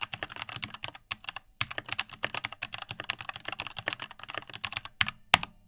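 Rapid typing on a Logitech K380 keyboard up close, a dense run of light clicky keystrokes with brief pauses and a couple of sharper key hits near the end.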